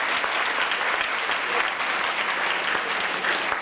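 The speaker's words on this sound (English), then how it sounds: "So have a round of applause." A theater audience applauding before a stage show, a full, sustained roar of many hands clapping at once, loud and even throughout.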